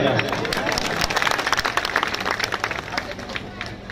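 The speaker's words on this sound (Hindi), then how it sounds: "आप खुद के लिए ताली बजाइएगा ना।" Rally audience in Jharkhand clapping together, a dense steady patter of many hands that fills the space, with crowd murmur and voices mixed in underneath.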